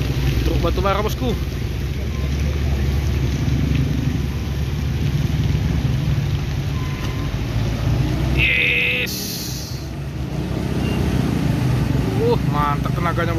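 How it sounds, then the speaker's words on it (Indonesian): A loaded coal truck labours through a muddy track, its heavy diesel engine rumbling loud and steady throughout, with voices talking over it and a brief high whine near the middle. "Truk batu bara bosku."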